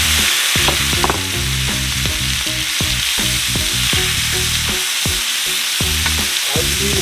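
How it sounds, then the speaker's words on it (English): Shrimp sizzle and fry loudly in a skillet that just held salmon, a steady crackling hiss with scraping stirs and clinks of a utensil against the pan throughout, close and alone with no talk. "we're going to dump our shrimp right into the same skillet, right into the same pan"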